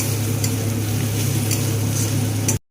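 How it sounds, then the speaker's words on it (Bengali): Ground garlic paste fries in oil in a pan with a steady, close hiss and a low constant hum underneath, cutting off abruptly at the end. "রসুনটাকে দিয়ে একটু ভালো করে ভেজে নেব"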